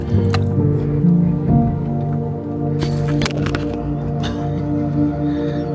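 A dish is rinsed with a splash of water at a jungle van campsite, giving wet squishing and dripping sounds close by over a steady tonal background hum.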